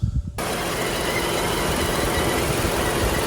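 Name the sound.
2016 Ford Explorer 3.5 V6 engine starting and idling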